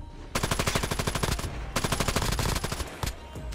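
Loud, rapid automatic gunfire in the mobile battle royale game Call of Duty Mobile, fired in two sustained bursts with a brief pause between them and a few scattered shots after.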